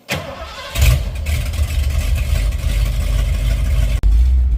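A 1986 Ford F150 with a 351 Windsor V8 and a rebuilt 9-inch rear end cranks and fires up, then holds a loud, steady low engine rumble close by, with a brief dropout near the end.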